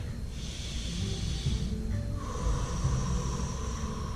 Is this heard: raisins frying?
no